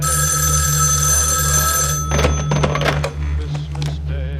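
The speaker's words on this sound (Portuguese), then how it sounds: "quando o telefone toca" An old telephone bell rings continuously and loudly in an office on Christmas Eve, then cuts off into clattering knocks and handling noises.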